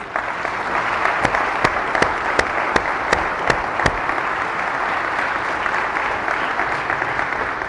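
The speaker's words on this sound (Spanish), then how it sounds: "Fuertes aplausos a Jesús" A church congregation applauds loudly during a Spanish-language Mass, a continuous crowd clapping with a run of sharp, evenly spaced rhythmic claps standing out in the first half before settling into steady applause.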